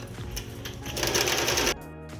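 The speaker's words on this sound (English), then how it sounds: "And it's ready for sewing." A sewing machine runs steadily while stitching a fabric face mask with elastic ear loops, a continuous close mechanical whir that grows louder and faster in the middle before easing off to a lighter hum.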